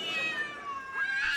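Cats caterwauling at night outside a bedroom, a drawn-out wavering yowl rising and falling, moderately loud and continuous for over a second with no talk.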